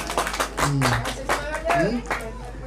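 Clapping from a crowd at an Indonesian community gathering, brief bursts of hand claps mixed with overlapping voices and shouting close by.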